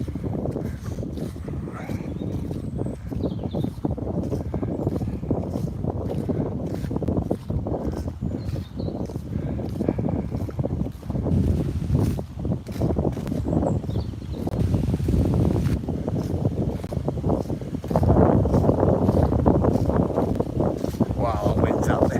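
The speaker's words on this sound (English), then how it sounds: "Wow, that wind's out there." Outdoor wind buffets and roars steadily during a walk, a constant low rumble with gusts that swell louder near the end, close to the microphone and without speech.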